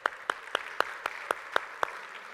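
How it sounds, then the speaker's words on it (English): Sparse, rhythmic clapping from a small audience at a campus talk, about eight evenly spaced claps in quick succession, close and moderately quiet. "Give them a round of applause"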